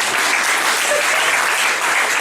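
A church congregation claps and cheers in praise of Jesus, a dense, steady roar of applause filling the room throughout.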